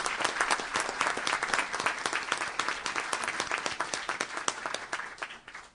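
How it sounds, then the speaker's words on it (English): A room full of people applauding, steady dense clapping that tapers off toward the end. "Let's give them a round of applause."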